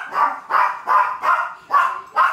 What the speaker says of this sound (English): Sorry, I can't hear you over this fucking dog.